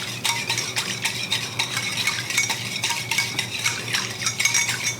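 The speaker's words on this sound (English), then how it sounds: "Give it one final little stir around all of that" A spoon stirs raw milk mixed with yogurt culture in a pot, a continuous close scraping and swishing in gentle repeated strokes, with no voices.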